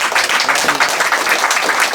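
Applause from the audience at a literary award ceremony and book launch, a steady wash of many hands clapping close by that holds for the full two seconds.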